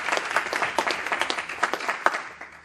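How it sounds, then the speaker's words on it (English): Applause from an audience of about a hundred at a community health education event in Crown Heights, a steady patter of many hands with a few sharper claps standing out, moderately loud throughout. "And yeah, you can clap, you can clap."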